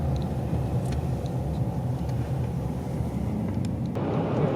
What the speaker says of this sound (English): got to get through this shit traffic here in the city